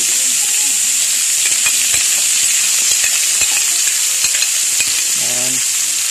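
Close, loud sizzle of garlic and sauce frying in a hot pan while chicken breast is cooked, a steady hiss with crackles and occasional stirring scrapes; a brief voice murmur near the end.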